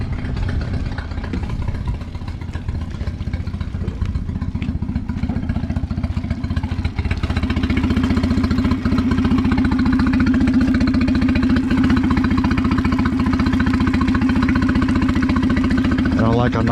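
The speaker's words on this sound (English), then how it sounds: "take 2 with the engine in a water tank" A small outboard boat motor runs close by in a water tank with a rough, clattering idle that holds steady and grows a bit stronger, while a person talks over it; no cooling water is coming out.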